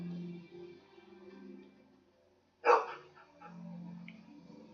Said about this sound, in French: Il est beau le chien.